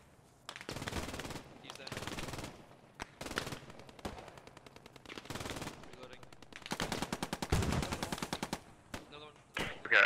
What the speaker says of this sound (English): I think I got that MG that was at the church